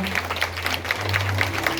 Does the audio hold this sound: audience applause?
yes